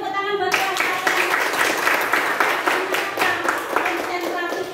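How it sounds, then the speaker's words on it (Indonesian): Classroom of ninth-grade students clapping hands together, a steady crackle of applause filling the room for about four seconds after a brief lead-in, with some voices mixed in. "Beri tepuk tangan buat kelas kalian."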